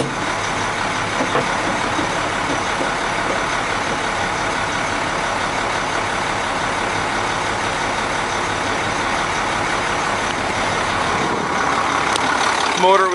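A 2001 International 4900 septic truck with an automatic transmission and a freshly rebuilt DT466 engine idles steadily and close by, a continuous broadband diesel rumble that holds even throughout, with a brief sharper noise near the end.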